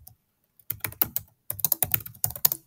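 Rapid bursts of computer keyboard typing entering a search query, two clusters of quick close keystrokes separated by a brief pause, clear and near with no talking.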